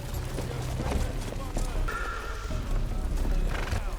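Horses on a road whinny and snort amid hoof clip-clops, close and fairly loud, with a dense outdoor bustle and voices mixed underneath.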